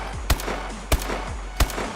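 Three loud, evenly spaced gunshots from a Call of Duty Black Ops video game, each a sharp close bang with a brief ringing tail, about two-thirds of a second apart, with no talking.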